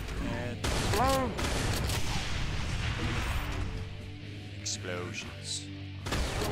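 Dense gunfire and rumbling explosions in Brutal Doom fill the scene, with overlapping bursts and booms that continue steadily from start to finish.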